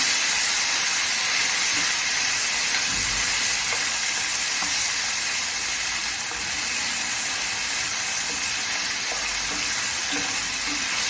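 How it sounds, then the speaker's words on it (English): Two chopped tomatoes hit hot oil in a pan with a loud, steady hiss and sizzle that fills the whole clip, with faint scraping now and then. There is no talk. "Then you throw in your tomatoes. We have chopped 2 tomatoes and you throw it in."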